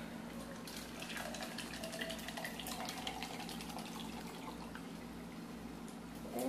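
Tap water runs in a steady, soft gush as it is poured to mix with cold water in a kitchen, with no talking.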